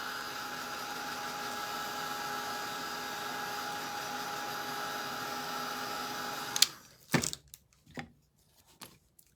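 A handheld dryer blows on a glued craft piece, a steady loud whooshing hum for several seconds that cuts off abruptly, followed by a few faint handling clatters and taps.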